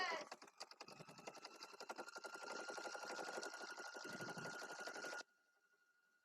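A sewing machine stitching a man bag runs in a fast, steady, rapid needle rhythm for about five seconds, then stops abruptly, leaving quiet room tone.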